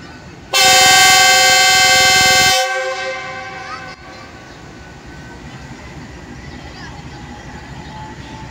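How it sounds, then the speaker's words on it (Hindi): Loud, close blast of the Jaffar Express departure horn, one long sustained tone lasting about two seconds before cutting off, followed by quieter station rumble and faint voices. "ज़बरदस्त अंदाज के साथ departure whistle, first departure whistle दिया है 40 राउंड जाफर एक्सप्रेस ने"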